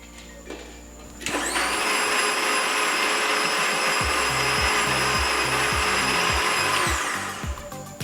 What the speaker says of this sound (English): I've added my tomatoes and and onions inside the blender, and I'm going to blend it